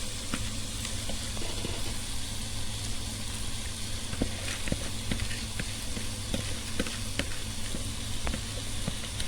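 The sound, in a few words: vegetables frying and being stirred in a pan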